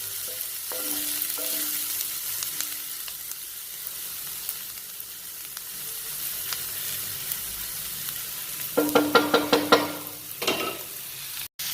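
Tomatoes, carrots and green peas sizzle over a bed of onions in a pan for a tofu hot and sour curry, a steady soft frying hiss with occasional clinks and a burst of stirring scrapes near the end.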